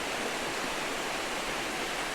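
Holden Clough waterfall pours in a steady, full rush of falling water, a continuous broadband roar with no voices over it.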